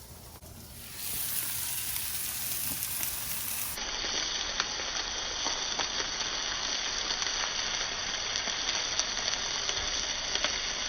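Potatoes sear on a Blackstone griddle turned to high outdoors in the snow, a continuous broad sizzling hiss that holds level for the whole stretch, with faint scattered crackles and no talk.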